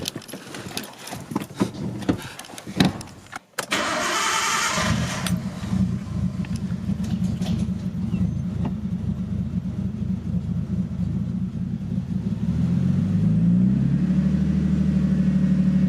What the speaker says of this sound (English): Yeah, it's just a cold start.